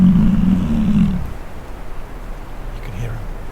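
A bison bull in Yellowstone's Lamar Valley lets out a deep, loud bellow close by for about a second, then the sound drops to a low rumbling background with a faint second grunt near the end.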